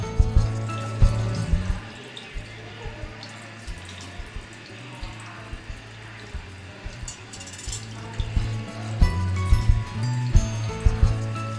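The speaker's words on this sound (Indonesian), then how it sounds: "kita lakukan pencucian di air mengalir ya selama kurang lebih 20 menit" Tap water runs steadily over a fresh burn wound during first aid at home, a continuous splashing stream under a low hum, with no talk.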